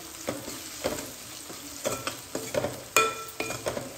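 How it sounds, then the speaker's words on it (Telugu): Onions sizzle softly in a pan with ginger garlic paste added, a spoon stirring and scraping in quiet, irregular taps over the gentle frying hiss. "నేను కొంతసేపు ఉల్లిగడ్డలు మగ్గిన తర్వాత అల్లం వెల్లుల్లి పేస్ట్ అయితే వేస్తానండి"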